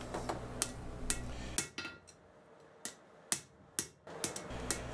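Hammer blows on a punch driven into hot iron during blacksmith forging of a chipping hammer, several sharp metallic strikes spaced irregularly, fairly close, with a low steady hum beneath at the start and end.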